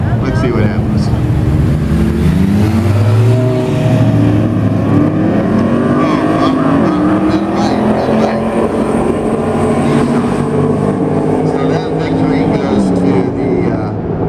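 Nissan Titan pickup trucks drag racing roar loudly nearby, their engines revving and climbing in pitch as they accelerate hard, then settling into a sustained drone.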